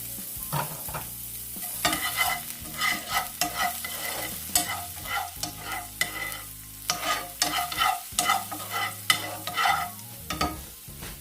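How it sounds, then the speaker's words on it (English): Shrimp and garlic sear in a hot pan, with a steady sizzle broken by frequent scraping, clacking stirs and tosses of a utensil against the pan, close up and with no talking. "get a nice little sear on it"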